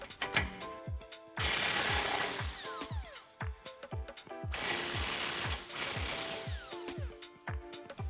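A hand ratchet clicks rapidly in repeated bursts while removing 21mm U-bolt nuts on a 2019-2022 Chevrolet Silverado 1500 during a leveling kit install, close and alone with short pauses between runs.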